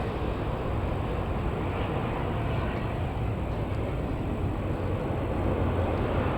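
A Loganair ATR 72-600 turboprop arriving at Manchester Airport produces a steady, broad, loud rumbling roar with an even engine drone that holds constant throughout.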